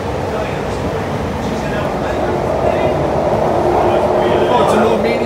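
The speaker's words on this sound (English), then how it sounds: "the acceleration on this train is huge compared to Sydney trains" A Sydney Metro train accelerates hard through the city tunnels, giving a steady, loud rumble and rising rolling noise, while passengers talk over it.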